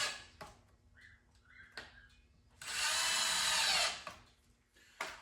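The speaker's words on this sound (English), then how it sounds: "Get some screws started right here." A power drill driving screws into the wood frame of a goat milking stand: a few short whirring bursts and clicks, then one long, loud sustained run of about a second and a half, and a final brief burst, close by with no speech.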